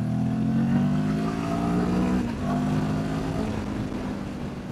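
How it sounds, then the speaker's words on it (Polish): A Benelli TRK702 motorcycle engine drones steadily under load while climbing uphill, its pitch holding and shifting slightly as it labors, fairly close and continuous. "Ta trasa to jest idealny pokaz możliwości silnika tego motocykla."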